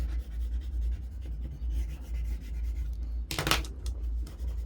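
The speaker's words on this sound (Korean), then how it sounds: "땅도 갈색이랑 황토색 두 가지 이용해서 이렇게 조금 땅의 모습 이렇게 자유롭게 색칠해 줄게요" Brown and ochre crayon or pastel rubs across paper to color the ground, giving soft scratchy strokes in short bursts with one brisker scrubbing pass, close and quiet.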